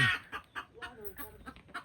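Chickens cluck in a quick series of short, soft calls nearby, a few irregular bursts with quiet gaps between.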